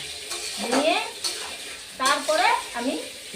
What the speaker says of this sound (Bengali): এবার কষিয়ে নিব আবার কিছুক্ষণ কষিয়ে নিব